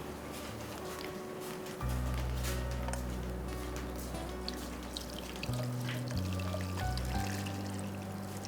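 Very hot water is poured out from a vessel in a steady, close stream with a shifting gurgling pitch, lasting several seconds.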